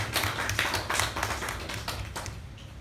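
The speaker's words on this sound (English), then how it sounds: "A round of applause." Small meeting audience at a Toastmasters-style club clapping, distinct individual claps from a few people at an uneven rhythm, fairly close and fading slightly toward the end.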